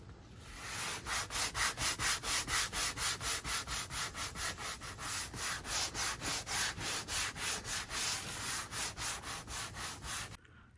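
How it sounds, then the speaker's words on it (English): A damaged leather seat from a Ferrari 360 Modena being hand-sanded in quick, steady back-and-forth strokes, a rhythmic rasping close up for about ten seconds, then stopping abruptly. "I'm gonna sand it one more time"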